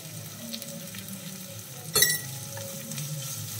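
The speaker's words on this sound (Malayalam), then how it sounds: "സവാള നന്നായിട്ടൊന്ന് വഴറ്റിയെടുക്കാം" Onions sautéing in a pan with salt for fish biryani, a quiet steady sizzle broken by a single brief scraping stir near the middle.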